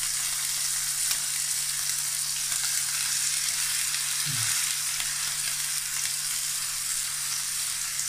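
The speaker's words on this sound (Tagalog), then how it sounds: "I-fried natin ng konti yung burger, no? Para hindi siya magutay-gutay mamaya." A beef burger patty fries in a pan with a steady, close sizzle throughout, plus a brief soft stir or shift partway through; no one speaks.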